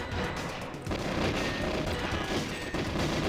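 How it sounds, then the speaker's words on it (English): Dense, continuous bursts of gunfire and exploding wooden crates in GoldenEye 007, a steady loud barrage of crackling blasts with no pauses and no talking. "I can blow up these crates, doesn't hurt them"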